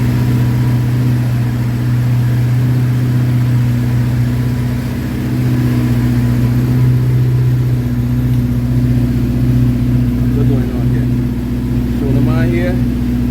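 K20/K24 race car engine idling and revving loudly while being tuned at race prep, a steady low harmonic drone that swells after the midpoint, with a faint whine near the end.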